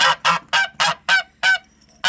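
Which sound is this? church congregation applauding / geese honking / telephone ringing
geese honking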